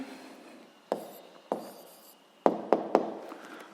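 Pen writing down an answer on paper, soft scratchy strokes broken by several sharp taps as the pen lands, close and quiet.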